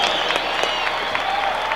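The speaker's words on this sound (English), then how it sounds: "I give a good round of applause because he's trying his best" Audience applause at a Supercross race in San Diego, a steady dense wash of clapping from a large crowd, continuous and fairly loud for the whole stretch.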